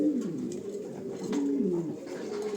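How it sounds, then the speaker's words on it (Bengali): Spanish pouter pigeons, a Bangladeshi-developed strain, coo in low, wavering, throaty notes that rise and fall across a couple of seconds, close by and moderately loud with no talking. "দেখতে পাচ্ছেন স্প্যানিশ পোটা বা পোরামেনিয়ান পোটা।"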